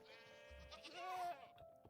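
Goats bleating in the Minecraft TerraFirmaCraft video game, a couple of nasal wavering bleats close together, fairly clear over a quiet background.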